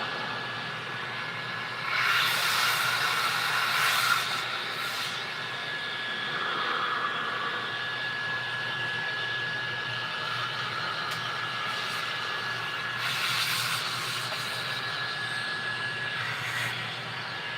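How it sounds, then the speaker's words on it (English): An Electrolux canister vacuum cleaner, one of several vintage models from 1954 to the late 1980s, runs steadily as a broad, airy whine with a thin high tone, swelling louder at moments without anyone speaking. "The vacuum's running that good."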